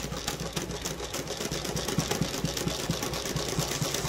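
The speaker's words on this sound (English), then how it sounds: "we'll try to start sewing and we'll see what we get" A Cornely L chainstitch sewing machine with 3D printed parts sewing furry yarn on its longest stitch, a fast, even mechanical chatter with a low motor hum, steady and close.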